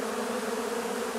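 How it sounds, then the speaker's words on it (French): Honeybees buzz around the frames of an open hive body, a steady close dense hum with no pauses, carrying on evenly and alone for just over a second. "les abeilles peuvent rentrer au-dessus"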